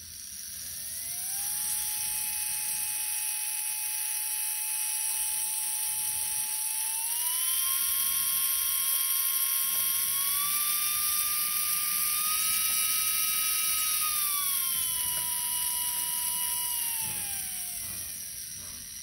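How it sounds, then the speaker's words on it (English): A small DC motor under potentiometer speed control whines steadily and close by, its pitch rising in steps as it speeds up, holding at higher speeds, then sliding down as it slows near the end. No talking. "you can control the speed of the DC motor very easily with this circuit"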